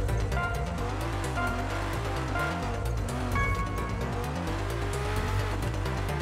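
A Ferrari race car engine in Horizon Chase Turbo hums steadily and continuously at a moderate level, with a sustained tonal drone and some tire noise, and no talking over it.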